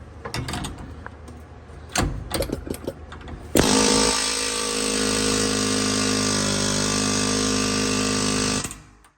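An impact gun runs a tie rod nut on a Prevost bus: a few short bursts over the first few seconds, then one long, loud, steady hammering rattle that holds for about five seconds before cutting off.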